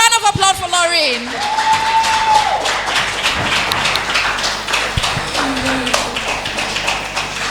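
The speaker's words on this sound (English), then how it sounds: "A big round of applause for Lauren." Audience applause rings out for a performer on a talk show, a dense patter of clapping that runs steadily for several seconds, with a sung or whistled tone and voices rising over the start.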